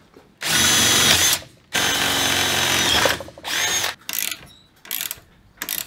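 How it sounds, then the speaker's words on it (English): A power drill whines loudly in two long bursts into a steel base for a tripod, followed by shorter spurts of drilling and mechanical clicks. "We're going to be drilling this tripod base in situ on the steel base."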